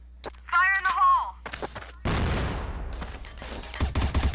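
Bursts of rapid gunfire and a loud blast from a video game, with a player's excited voice mixed in near the start.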